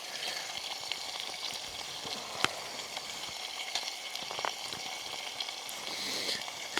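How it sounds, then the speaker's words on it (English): Onions and garlic frying together with peas in a pan on a 3F UL stove, giving a steady close sizzle with faint crackles and the odd stirring clink. "I'm going to add in the onions and the garlic."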